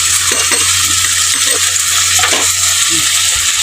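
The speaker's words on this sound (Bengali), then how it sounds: "আমি ঘেটে নেব।" Tomato spice paste with turmeric and salt is stirred in a hot frying pan, a steady loud sizzle with scraping spoon strokes and light clinks running throughout.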